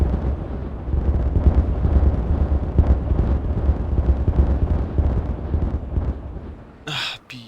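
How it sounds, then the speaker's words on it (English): A sustained, rumbling blast in the game Timberborn as terrain is exploded, a dense low roar lasting several seconds before cutting off into a brief voice at the end. "Let's explode this part first, and then this part I don't think it's going to go in a single swoop"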